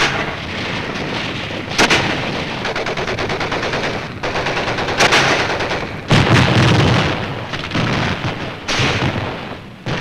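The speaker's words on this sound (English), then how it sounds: "A mortar barrage searches out hidden machine gun nests." Combat on Iwo Jima in 1945: a mortar barrage pounds hidden positions while machine guns rattle. Loud, dense bursts of automatic fire run continuously, punctuated by heavy close blasts.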